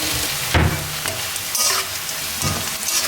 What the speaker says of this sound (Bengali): ভাজা ভাজা হয়ে আসছে